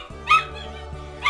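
A dog gives two short, sharp yips or barks close by, one at the start and another at the very end, with a low steady background hum.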